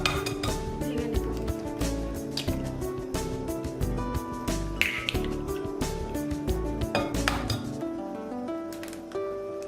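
Eggs beaten with a beater in a bowl for French toast: quick, steady clinking and tapping against the bowl, running throughout under a bed of tonal background sound.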